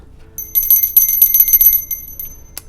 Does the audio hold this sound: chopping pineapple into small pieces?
no